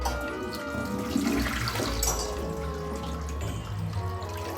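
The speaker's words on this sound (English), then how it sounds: "The flush on the toilet's not really great." A weak hotel toilet flush in Cancun gives a steady rushing, gurgling wash of water that runs for several seconds at moderate loudness with no talking over it.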